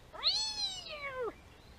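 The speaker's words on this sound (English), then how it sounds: "This is Larry the Cat" A single cat meows once, a clear rising-then-falling call lasting about a second, close and fairly loud with no talking around it.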